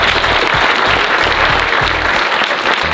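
Dense, loud applause from a large crowd greeting a motivational speaker, continuous and even throughout with no gaps.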